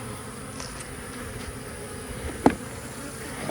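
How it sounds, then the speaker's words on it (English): Honeybees gathered in a cup make a faint, continuous buzzing hum, with one sharp click partway through. "get me a cup full of bees."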